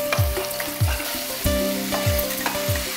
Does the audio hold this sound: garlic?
yes